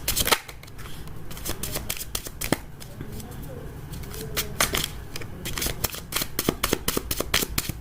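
Tarot cards shuffled by hand during a love reading, a close run of rapid riffling and flicking bursts of card edges repeating across the whole stretch, with a voice present but not clearly talking.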